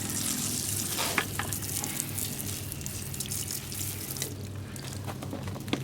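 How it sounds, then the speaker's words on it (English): Water sprays in a steady hiss as car wheels are rinsed before Plasti Dip coating, a continuous close wash with a few faint drips and taps. "So just do another quick rinse."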